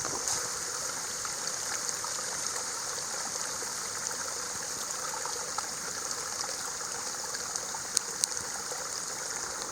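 Indian Creek, a small stream along the Current River section of the Ozark National Scenic Riverways, flows with a steady, soft rushing and trickling, constant and fairly faint throughout, with no voices.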